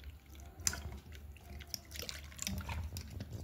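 Cornflour is stirred into a little water to make a thin slurry for raw banana croquettes, heard as faint, close liquid swishing and small drips over a low background, with no talking.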